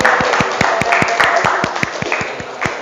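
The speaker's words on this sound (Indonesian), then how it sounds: "Tepuk tangan." Audience clapping at a school gathering, a close burst of rhythmic, fairly loud handclaps in steady succession, some claps landing together in unison, with no voices on top.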